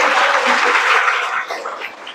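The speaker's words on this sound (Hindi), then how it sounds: "ताली बजाओ।" Audience of students and staff clapping at a school event, a steady, loud burst of many hands applauding that tapers slightly near the end.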